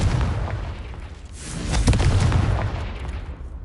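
Confringo blasting spell going off in Hogwarts Legacy, a booming explosion with a rumbling low burst that swells around the middle and lingers as a rolling tail, loud and close.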